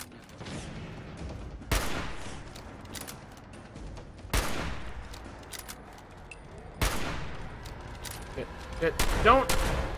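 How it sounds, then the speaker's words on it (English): Gunfire in the video game Fallout 4 from a radiation gun, several heavy blasts spaced a few seconds apart over a noisy game background, with a voice talking throughout. "pretty sure he's using a radiation gun, not an energy weapon"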